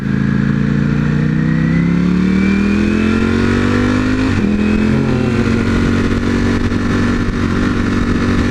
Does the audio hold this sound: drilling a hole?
no